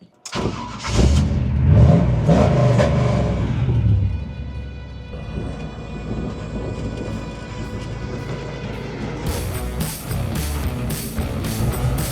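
A bagged 1954 Chevy truck with a Flowmaster exhaust starts up and pulls away, its engine booming loudly and rumbling deep at first, then settling into a steady drone as it moves off.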